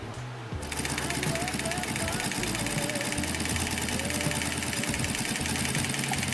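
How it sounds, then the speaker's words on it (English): A Consew 205RB-1 top and bottom feed upholstery sewing machine starts up and runs steadily, a loud continuous motor whir with a rapid mechanical needle chatter, close and unbroken after a brief lead-in. "And now we're just sewing right along."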